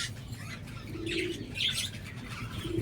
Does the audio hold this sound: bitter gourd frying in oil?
no